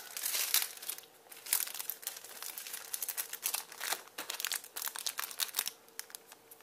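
Plastic card sleeves for Miracle Battle Carddass trading cards are pulled open, producing close, bursty crinkling and crackling that comes in repeated clusters with brief pauses.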